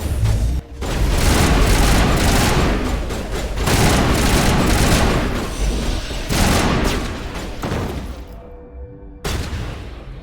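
Firefight in the video game Mass Effect, with dense, loud bursts of gunfire and booming shots crowding almost continuously, broken by a brief near-silent gap before a final burst.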